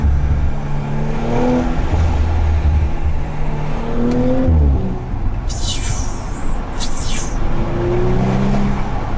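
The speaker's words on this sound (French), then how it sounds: "s'il y a bien un truc que tu entends dans cette voiture, c'est le bruit du turbo" A 2018 Audi RS5 with a 2.9-litre turbocharged V6 accelerating hard, engine droning and rising through gears from inside the car, with short hissing whooshes of turbo and blow-off as the throttle lifts.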